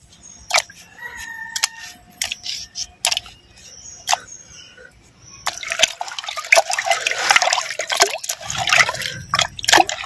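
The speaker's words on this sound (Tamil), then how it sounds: "சுட்ட உப்பு கட்டத்தை நல்லா அலசிக்கிட்டான்" Fire-roasted, salted dried mutton is rinsed in water, starting with scattered drips and small splashes, then turning into a continuous close, loud sloshing and swishing as the meat is washed.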